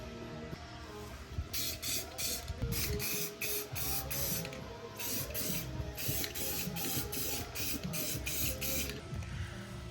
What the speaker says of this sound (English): We're going to try to spray paint this.